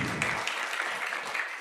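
A group of students bursts into applause during a school session, a brief, dense patter of clapping heard close by.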